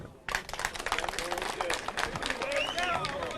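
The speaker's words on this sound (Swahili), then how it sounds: "Makofi." Rally crowd clapping, a quick burst of brisk, uneven applause rising suddenly and continuing steadily with murmuring voices mixed in.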